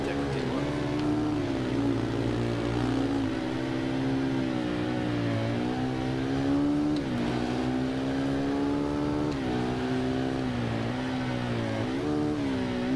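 A Kawasaki ZX10R motorcycle engine in the Ride 2 racing game drones at sustained high revs, pitch sliding up and down with gear changes. It sounds muffled through a helmet view, and a voice talks over it.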